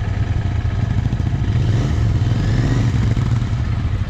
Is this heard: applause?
no